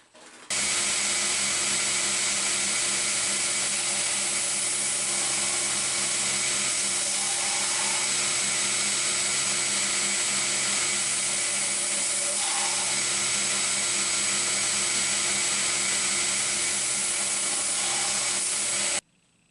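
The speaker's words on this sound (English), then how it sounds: "We're going to continue with the same grit, but start now grinding on the handle." A grinder runs continuously against a walnut handle on a Case XX steak utility knife, giving a steady high whining, abrasive hum with faint rubbing variations throughout, near and loud, with no talking.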